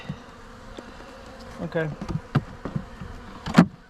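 Honey bees buzz around an open beehive during an inspection, with scattered close passes, wooden frame knocks and clicks, and a brief spoken word.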